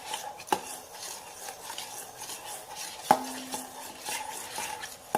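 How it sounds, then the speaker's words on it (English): A spoon stirs a thick slime mixture of glue and foam in a bowl, soft wet swishing with a few sharp clinks against the side, quiet and close with no talking. "now mix it with the spoon"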